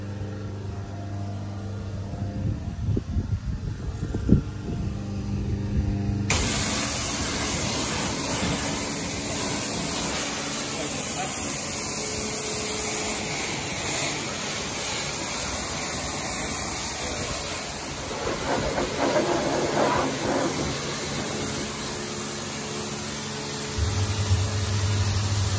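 A hot pressure washer with a standard lance and 25-degree nozzle rinses wax off a vehicle: a loud, steady hiss of spray starts abruptly and holds almost unbroken to the end.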